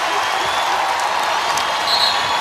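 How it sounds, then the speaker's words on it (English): A basketball arena crowd grows louder during a women's college game between South Carolina and UCLA, a steady roar of voices and cheering with faint squeaks and whistles under it. "Crowd starting to make some noise"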